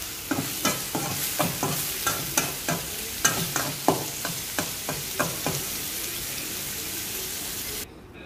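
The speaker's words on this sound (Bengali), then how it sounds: "দিয়ে ভালো করে ভাজা ভাজা করে নামিয়ে নেব" Boiled greens and fried onion being stir-fried in a pan, a spatula scraping in steady repeated strokes over a soft sizzle, then quieting at the end.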